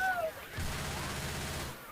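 A sustained burst of rapid gunfire from the video game Left 4 Dead 2 rattles for about a second among game noise.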